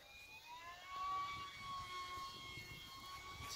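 Electric front motors of a VTOL model aircraft run with a steady high whine, a few tones holding and drifting slightly over a broad hiss throughout.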